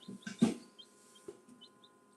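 A farm chicken gives a few soft, close clucks in quick succession, with faint high chirps scattered through an otherwise quiet background.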